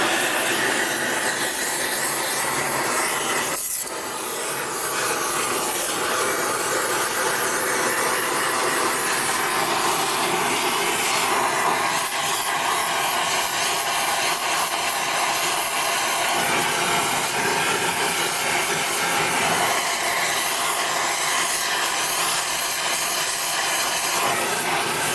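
Torch flame heating a rusty breather in a motorcycle engine case on a panhead or knucklehead, a steady loud roaring hiss that continues almost without break throughout.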